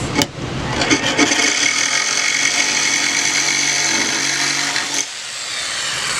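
A power saw cuts a 3/4 inch notch into a small piece of a Raco door frame, a loud, close, steady rasping whine that drops off sharply near the end.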